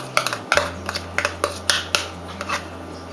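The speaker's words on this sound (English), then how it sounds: "Now, I mix the egg mixture into my milk mixture." Egg mixture being stirred into a milk mixture for thick, egg-free pancake batter, a series of sharp clicking taps and scrapes of a utensil against a bowl in an uneven rhythm, close and clear.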